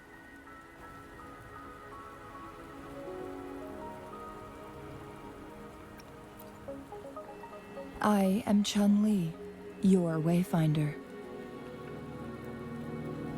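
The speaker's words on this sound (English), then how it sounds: "Don't worry, the rain won't last much longer" Steady rain in a video game falls throughout on a surface, with a nearby voice speaking over it partway through before the rain continues alone.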